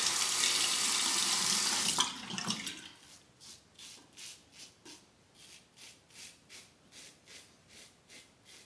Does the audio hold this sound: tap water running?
yes